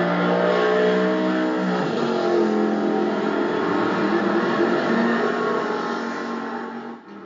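Electric 1/32 scale slot cars racing on a tournament track, a steady high whining motor buzz with shifting pitch that holds for several seconds, then tapers off and ends abruptly.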